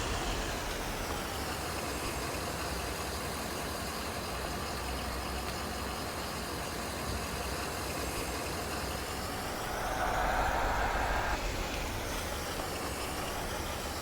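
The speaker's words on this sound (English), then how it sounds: "is that truck obnoxiously loud" An obnoxiously loud truck engine runs in Farming Simulator 22, a steady droning motor hum that swells briefly louder near the end, heard alone without speech.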